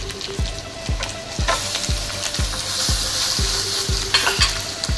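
Steady sizzling of onions and mutton frying in hot oil, with regular scraping knocks of a utensil stirring the pan about twice a second.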